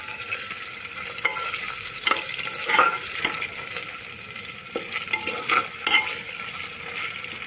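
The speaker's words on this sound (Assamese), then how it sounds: "কাজু কিচমিচখিনি অলপ ভাজি লৈছোঁ 2 মিনিট।" Cashews and raisins fry in a cooking pan for a pulao, with a steady soft sizzle. Occasional scrapes and stirring knocks run through it, close and moderate in level, and nobody talks.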